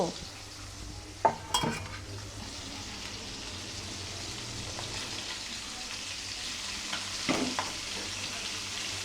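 Pangas fish frying in oil in a pan on a stove, a steady close sizzle with a few clinks and scrapes of stirring near the start and end.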